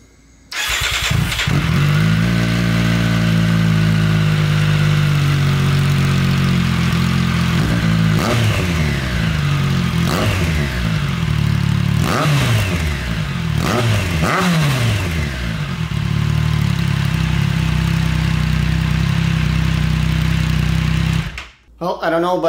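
A 2022 Triumph Street Triple R with a Yoshimura AT2 aftermarket exhaust idles with a deep, throaty exhaust tone, then revs sharply several times in quick bursts before settling back and cutting off.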